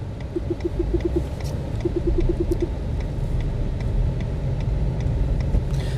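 A car driving on a loop around Inverness city centre in the Scottish Highlands, a steady close engine and road rumble with tyre noise, continuous and fairly loud with no talk.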